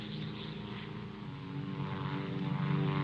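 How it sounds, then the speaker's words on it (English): A propeller airplane flies overhead in a 1953 war film, a steady low droning hum with even rumble that swells slightly louder toward the end. "But maybe they saw a plane back there."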